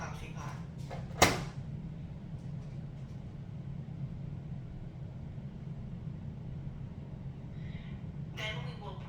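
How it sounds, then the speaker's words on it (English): A coffee pot lid snaps shut on a drip coffee maker with a single sharp click near the start, followed by quiet room hum and a brief faint rustle near the end. "Next, we will close the coffee pot."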